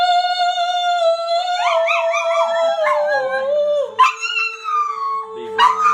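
A dog howls along with a person's singing voice, long wavering howls rising and falling close by, with brief yips near the end.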